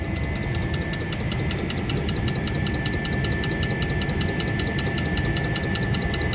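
Faulty Daikin VRV3 inverter compressor in a ducted system with an L1 error runs with a steady, rough mechanical drone and a fast regular ticking pulse, continuous and fairly close, with no talk.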